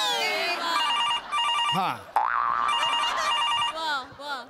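A telephone ringtone chirps repeatedly in bright, pulsing bursts, close and fairly loud, with a short spoken interjection partway through on a Marathi comedy stage.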